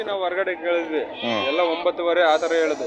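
Lambs at the Amingad sheep and goat market in Karnataka bleat loudly and repeatedly at close range, overlapping calls filling the air while people talk nearby.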